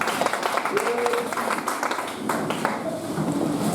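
A church congregation applauding, a dense patter of clapping hands heard together with voices talking and calling out over it.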